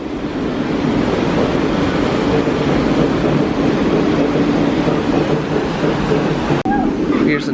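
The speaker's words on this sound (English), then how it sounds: "I have a first look at the rapids over here." Steady rushing water from the Congo River Rapids ride at Busch Gardens, a broad continuous roar of churning rapids with some wind buffeting, loud and close throughout with a brief dip near the end.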